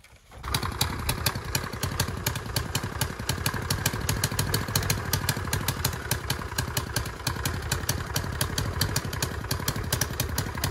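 A motorcycle engine fires up and settles into a steady, clattering, rapid putter, close and moderately loud with no talking.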